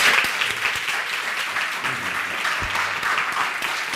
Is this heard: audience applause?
yes